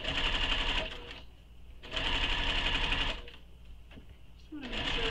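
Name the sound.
sewing machine back stitching the top edge of a sling bag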